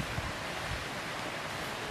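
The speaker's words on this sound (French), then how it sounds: "C'est très agréable le bruit du ruisseau." A mountain stream, the Valette, rushes steadily nearby, a dense, even hiss of flowing water with no voices.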